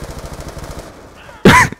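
Rapid automatic gunfire from Call of Duty: Black Ops 2 multiplayer, a steady close burst of evenly spaced shots that stops, followed by a brief loud shout.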